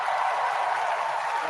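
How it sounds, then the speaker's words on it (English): An audience gives a round of applause, a dense, even wash of many hands clapping that stays at a steady level throughout the brief moment. "let's give a big round of applause to these two guys for the Great Circle"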